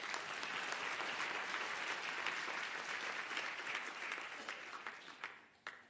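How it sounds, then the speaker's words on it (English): Summit audience giving a government minister a long round of applause, dense steady clapping from a large hall crowd that thins out and trails off into a few scattered claps. "I think we should really give him a big round of applause"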